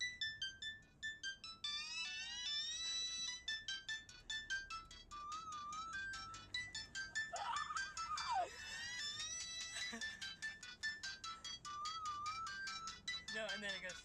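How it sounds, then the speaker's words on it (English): Electronic mobile ringtone melodies play continuously, bright chirpy tones repeating in quick patterns, with a voice briefly shrieking along near the middle. "they played these amazing ringtones"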